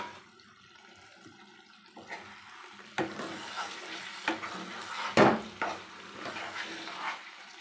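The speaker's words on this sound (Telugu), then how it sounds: "నేను 1 గ్లాసు నీళ్ళు పోస్తున్నా గ్రేవీ కోసం" A glass of water is poured into chicken curry cooking in a pot, a brief splashing rush amid soft stirring and sizzling, close and fairly loud.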